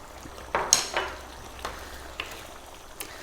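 Lamb dopiaza curry cooking on high heat with the lid off as fresh chili goes in, bursts of sizzling and frying with a few stirring scrapes, close and moderately loud, then settling into a quieter hiss.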